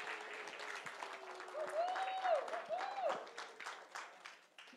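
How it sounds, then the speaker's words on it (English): A church congregation applauds a young woman named Izzy, a steady wash of hand claps from many people that swells, peaks midway and tapers off, with a few voices calling out over it. "I think Izzy deserves a round of applause for her confidence"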